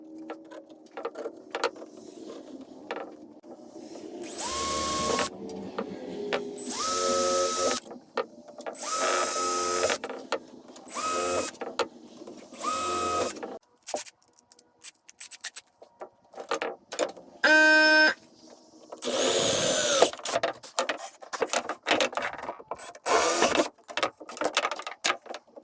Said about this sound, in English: now that we got all the holes drilled